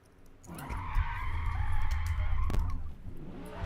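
In the Forza Motorsport racing game, the tyres of an 800-horsepower race car spin and skid in a rising screech for about two seconds over engine noise, then cut off sharply.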